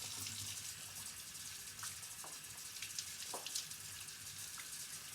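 Whole chickens are rinsed under a running kitchen tap, with a quiet, steady stream of water and a few light splashes and drips, no voices.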